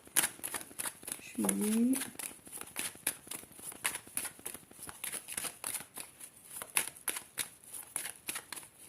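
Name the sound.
shuffling tarot cards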